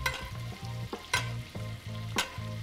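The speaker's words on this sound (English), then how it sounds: "we're going to just start basting. Just kind of baste throughout until the fish is cooked through." Butter, garlic and parsley sizzle steadily in a pan as eelpout fillets are basted, with regular spoon scrapes and clinks against the pan repeating in a steady rhythm over the frying.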